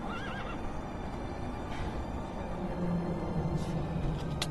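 A horse in the video game Minecraft whinnies near the start with a wavering, rising neigh, then a dense wash of game noise and soft hoof clatter continues underneath at fairly steady loudness, with no talking.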